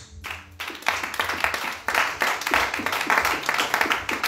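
A church congregation claps together, a dense, steady patter of many hands close by that stays loud and continuous after a brief quieter start.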